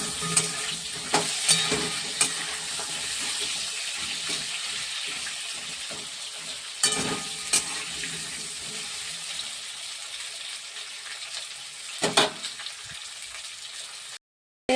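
Cumin and potatoes fry in hot oil with a steady close sizzle, punctuated by several louder scrapes and stirs of a utensil against the pan.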